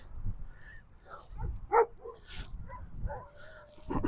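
Stray shepherd-type dogs on a beach give a few short, scattered barks and whimpers, with one sharper bark near the middle, over wind and surf noise.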